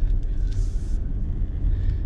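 Lamborghini Urus SUV creeping through a tight off-road U-turn, a steady low engine rumble close by with faint crunching, no voices.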